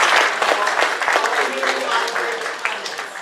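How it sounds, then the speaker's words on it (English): Applause from a meeting audience, a steady dense wash of clapping that holds at moderate level throughout with some voices mixed in. "Yeah, big applause."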